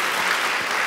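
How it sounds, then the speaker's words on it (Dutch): Audience at a talk on robots and ethics giving a short burst of loud, dense applause for two men on stage. "Mag ik een applaus voor beide heren?"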